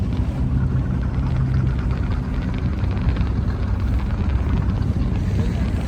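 A boat engine drones steadily with a low, throbbing rumble, continuous and close throughout.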